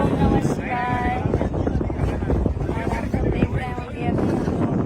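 Wooden rowing boat on the Ganges river at Varanasi, with water sloshing and wind buffeting the microphone, muffled voices in the background throughout.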